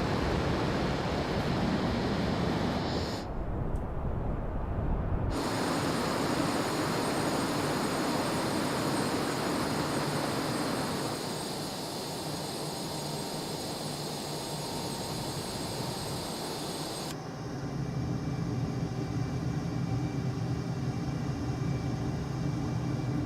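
An inverted F-18 jet roars at high speed in Microsoft Flight Simulator 2024, a steady loud engine drone with abrupt shifts in tone and brief dropouts as the view changes.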